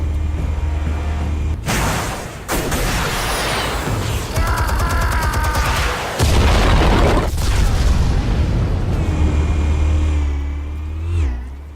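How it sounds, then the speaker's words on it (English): Heavy explosive detonations in Batman - The Telltale Series, loud deep booms and bursts recurring over a rumbling, engine-like background, with sharp blasts cutting in and a swelling roar near the end. "Explosives armed. Fire when ready."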